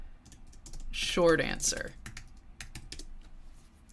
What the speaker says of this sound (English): I'm having to communicate with it through typing.